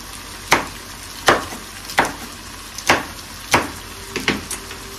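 Green pepper and vegetables cooking in a small frying pan, with a steady sizzle broken by about seven sharp stirring or utensil knocks at a regular pace, heard close up and without talk.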